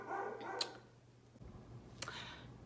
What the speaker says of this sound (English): you guys probably can hear my dog